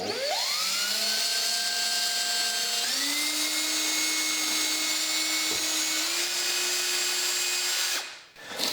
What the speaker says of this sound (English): I've marked them and drill a little pilot hole.